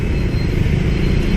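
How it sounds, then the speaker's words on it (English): Busy street traffic in Saigon, Ho Chi Minh City: a loud, steady rumble of car and motorbike engines close by, continuous with no voices. "Brutal traffic."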